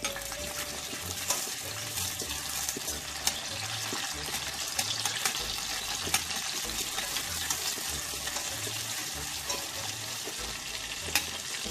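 Garlic frying in hot oil in a pot while koshari is cooked, giving a steady close sizzle throughout with soft crackles over quiet background music.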